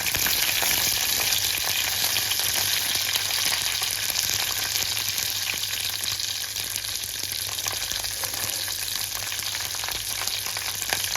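Green and dry chilies frying in hot oil with cumin for a tempering give off a loud, dense, continuous sizzle that holds steady throughout, with no voices.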